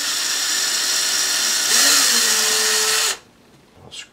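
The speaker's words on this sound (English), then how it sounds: "take a drill to drill a pilot hole for the screw eyes." A power drill bores a pilot hole for screw eyes, a loud steady high whine that dips in pitch as the bit bites, then stops abruptly, leaving near silence with a faint bump at the end.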